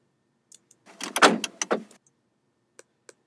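A sample built from car unlocking noises, a dense cluster of clunks and rattles lasting about a second, then a few faint isolated clicks trailing off into silence.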